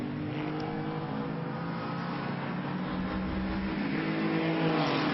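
Historic racing cars, including a Maserati 250F and a Formula 2 car, pass during the Hawthorn Trophy race at a distance, their engines a steady buzzing whine that gradually rises and swells near the end.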